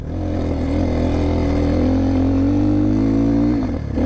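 A motorcycle rides along a muddy road through snow, its engine droning loud and steady close by, then easing off near the end, with no talk over it.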